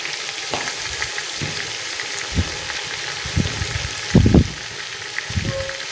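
Crushed ginger, garlic, green chilli and tomato paste being stir-fried in a pan for biryani, a soft continuous sizzle punctuated by a few spoon scrapes and one louder stirring burst.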